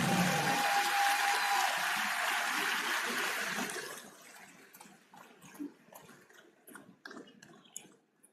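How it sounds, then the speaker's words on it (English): Audience applause at a bar association conference, a loud dense wash of clapping that fades away after a few seconds into scattered, dwindling claps. "Please, another round of applause."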